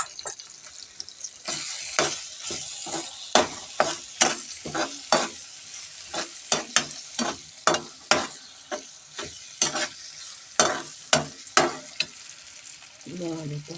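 Onions frying in a pan with ginger, green chili and garlic, stirred in steady rhythmic scrapes over a constant sizzle, fairly close and loud throughout, no talking.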